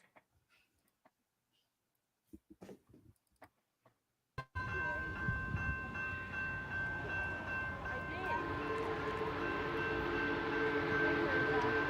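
After a few quiet knocks and clicks, a train suddenly arrives and passes nearby with a loud, sustained rumble and a steady tonal hum that grows fuller toward the end.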